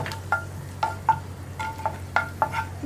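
Cashews and raisins stirred while roasting in a hot pan, a soft steady sizzle broken by light spoon scrapes at an uneven rhythm, close and quiet, with no voices.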